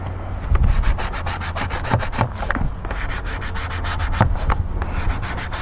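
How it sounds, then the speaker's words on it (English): Hand scraping strips old finish from a wooden cabinet, a steady run of rough rasping strokes with a few sharper scrapes, close and continuous with no voices. "Let me just go ahead and do a second round of scraping here."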